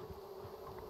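Bees buzzing in the survival video game Raft, a steady droning hum that stays fairly loud and continuous throughout with no talking.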